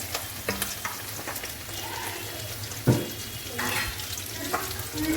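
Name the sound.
spinach fish curry with broth simmering in a pan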